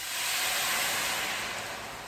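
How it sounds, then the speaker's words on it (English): Water splashed into a hot pan of green beans gives a steady, loud, broad steaming hiss that holds level throughout and fades slightly at the end. "I'm just going to add a little water. This is going to just kind of help them steam up"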